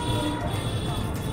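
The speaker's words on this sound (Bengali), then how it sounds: "ট্রেনের আওয়াজ, ট্রেন ঢুকছে।" A train pulling into Santipur railway station rumbles low and steady nearby, a continuous heavy mechanical drone.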